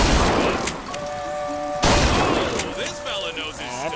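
Gunfire at a fun fair shooting gallery in BioShock Infinite: two loud sharp blasts roughly two seconds apart, mixed with ringing tones and a talking voice.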